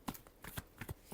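Tarot cards are shuffled in a few quick, soft riffling bursts, close and quiet, each brief flutter separated by short pauses.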